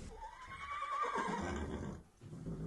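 Several horses neigh in a stable, one long rising and falling whinny carrying over a busy background, followed by a brief pause and more horse sounds, clear and close.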